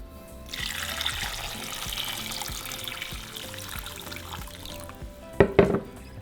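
Water runs steadily into a saucepan holding Roma tomatoes for several seconds, a continuous splashing pour, followed by a couple of clanks at the end.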